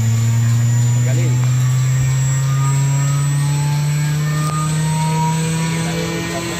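A ZMVF 11 kW inverter air compressor runs with a loud, steady mechanical drone and an electric hum that holds unbroken from start to finish, close by.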